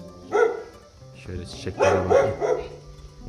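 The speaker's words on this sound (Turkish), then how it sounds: "Bak bu köpek bana hırlıyor." A dog growls low and barks a few times close by while a person talks over it.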